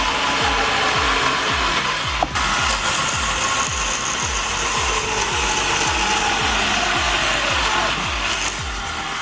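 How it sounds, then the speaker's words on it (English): A budget log cutting machine saws through firewood with a steady, loud mechanical grind and a fast repeating ratchet-like clatter, broken by a sharp click near the start and another near the end. "this simple, budget-friendly log cutting machine proves that efficiency doesn't have to come at a high cost"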